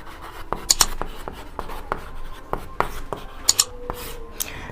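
Pen or chalk writing notes during a Class 10 biology lesson: a series of short, sharp scratchy strokes and taps at an irregular rhythm, fairly close and moderately quiet, with no talking.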